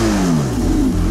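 A loud, powerful Porsche 4.6-litre V8 hybrid engine revs hard in one short burst, its pitch climbing and rolling as it roars.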